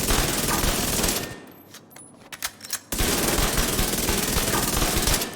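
SMG fire in The Division 2. Long, dense bursts of rapid automatic shots come loud and close, with a brief lull and a few isolated pops in the middle before the full stream resumes. No voices.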